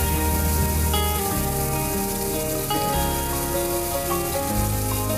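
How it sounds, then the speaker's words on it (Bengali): Spice paste being fried down in oil in a pan for a banana flower curry, giving a steady close sizzle with light stirring, while background music plays over it and no one speaks. "এবার মশলাটা একটু ভাজা ভাজা করে নিচ্ছি, মশলাটাকে একটু কষে নিচ্ছি ভালো করে।"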